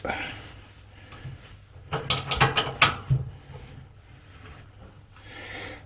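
Metal brake cable outer being twisted by hand on an Ifor Williams trailer axle, giving a few close clicking, ratcheting scrapes in a short cluster, with quiet talk around it.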